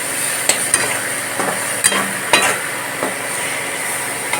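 Boiled potatoes with masala are stirred and sautéed in a pan for a fish curry, a hissing sizzle under several sharp knocks and scrapes of a spoon against the pan.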